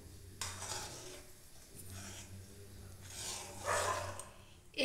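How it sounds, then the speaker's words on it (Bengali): Rice kheer with date jaggery is stirred in a pot, slow sweeping, swishing spoon strokes that rise and fall in waves, close and moderately loud, with no voices. "আবার আমি এটা খুব ভালো করে নেড়ে দেবো।"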